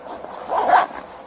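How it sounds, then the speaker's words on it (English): A zippered bag is unzipped in one quick, rasping pull, close and clear with nothing else around it. "So if you unzip this"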